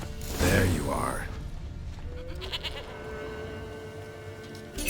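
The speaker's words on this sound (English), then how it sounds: "Here, goat." A goat bleats in The Witcher 3 video game, one wavering, fairly loud call near the start, followed by quieter game ambience and a faint chime.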